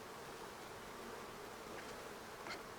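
Honeybees hum around an open hive being divided in a beehive split, a steady, dense buzzing of many insects close by, with occasional louder passes of individual bees.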